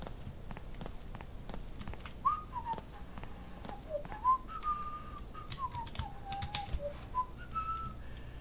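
A tenant whistling a wandering tune inside a residence in the burglary game Thief Simulator, the faint melody rising and falling in clear notes over quiet footsteps and soft background clatter.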